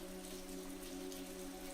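Steady rain falling on a city street in Scotland, a soft continuous wash of drops with no voices, even and unbroken throughout.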